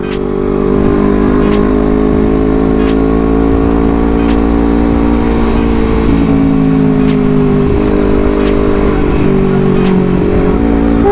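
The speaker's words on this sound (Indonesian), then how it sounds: "motoran di pagi hari" A motorcycle rides through morning traffic, its engine a steady, loud drone that holds for the whole stretch with wind rush over it and no voices.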